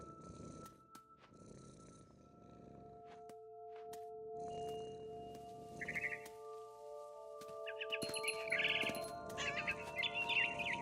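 Sparse bird chirps and a soft purring rumble in the video game What Remains of Edith Finch, heard over quiet ambient tones, with brighter chirping in the last few seconds.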